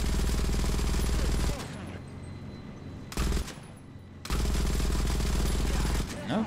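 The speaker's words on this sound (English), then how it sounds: "It takes concentrated machine gun fire though to make them want to go away." Sustained machine-gun bursts striking reactive armor panels on a tank in a video game: a loud, dense rattle that stops briefly, returns in a short burst, then resumes in a long stretch, heard alone without talk.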